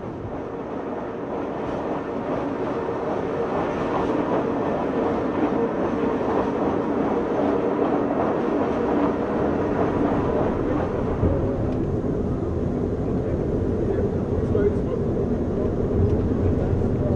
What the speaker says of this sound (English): engineers already dared to make the Pilatus Railway more than twice as steep